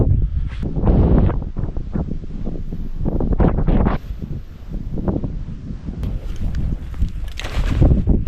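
Gusty wind buffets the microphone on a rocky stretch of the Old Rag Mountain hike in Virginia, rising and falling in loud rumbling surges with some rustling.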